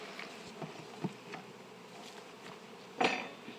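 Honeybees from a fresh swarm buzzing around hive boxes fitted with wax-coated frames, a steady faint hum with brief louder passes as bees fly close, plus one sharp knock.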